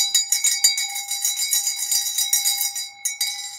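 A hand bell rings continuously, rapid metallic strokes in a steady shaking rhythm, bright and sustained, close and loud with a brief pause near the end before ringing resumes.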